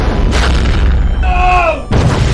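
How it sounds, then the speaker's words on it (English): Spaceship guns fire and explode in the space game EVE Online: heavy booming blasts bracket a tonal whine, loud and close, with a voice briefly heard among the effects. "All guns, fire."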